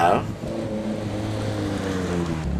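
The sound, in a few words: Alfa Romeo car driving past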